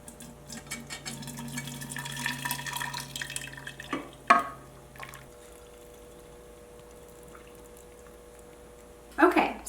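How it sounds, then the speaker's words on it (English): Homemade lactation tea ladled through a mesh strainer into a 2-quart jar, giving soft liquid pouring and dripping in the first few seconds, then a couple of light clinks and a quieter stretch with another clink near the end. "I'm going to put a mesh strainer over the opening, and I'm going to use a ladle"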